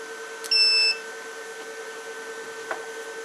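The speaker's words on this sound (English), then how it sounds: "Still on battery, you hear it beeping." A Liebert GXT3 UPS running on battery lets out one short, loud electronic beep near the start, then a steady faint hum continues with a small click near the end.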